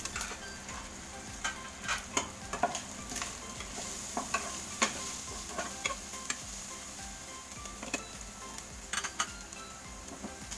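Shrimp paste sautés with onion, garlic and chili in a pan, a continuous moderate sizzle overlaid with irregular taps and scrapes of a stirring utensil, with no talking.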